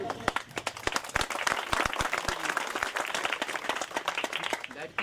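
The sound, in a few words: audience applause at award ceremony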